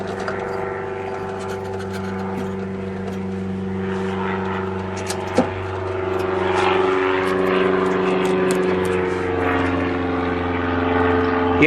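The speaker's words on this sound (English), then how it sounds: "You can still hear it arcing all the way around because that spring is missing." Electrical arcing inside a Trutone color roundie TV with a missing spring, a crackly sizzle and brief snap over a steady mains hum and whine, recorded close.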